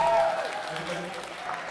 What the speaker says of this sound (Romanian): Și acum aplauze pentru Mir,